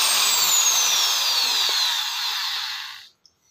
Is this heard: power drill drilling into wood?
yes